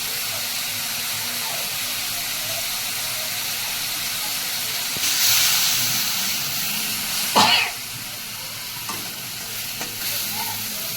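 Water hits hot spiced chili masala with chili powder in a pan, setting off a steady sizzle that surges into louder hissing bursts midway, with the rattle of stirring close by.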